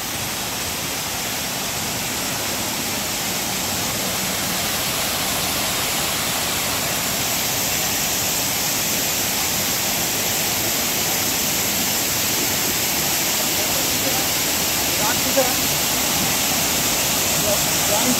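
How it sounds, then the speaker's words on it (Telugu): A waterfall pours in a continuous, dense roar of rushing water that holds steady and loud for the whole stretch, with no clear voices above it. "ఇప్పుడు మనం అంతా ఈ వాటర్ ఫాల్స్ అంతా చూసాం కదా"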